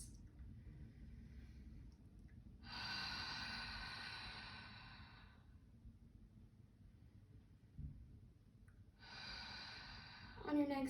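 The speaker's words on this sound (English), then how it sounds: "Inhaling through the nose, exhaling out through the mouth. A few deep breaths." Slow deep breaths drawn in through the nose and let out through the mouth during a seated chair yoga session, two long airy exhales a few seconds apart, close and soft, with quiet pauses between.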